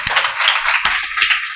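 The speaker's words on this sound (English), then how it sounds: "A big round of applause now for Darcy" A student hustings audience applauds a candidate: a short, dense burst of many hands clapping at once, fairly loud and steady, with no talk over it.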